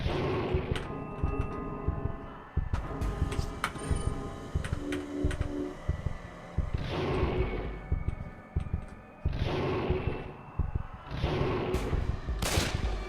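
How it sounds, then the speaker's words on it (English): Gunshots in an RPG Maker horror game, several sharp separate shots spaced a few seconds apart, each with a short ringing tail, over a low droning game background. "If you shoot it too quickly, the second bullet doesn't count."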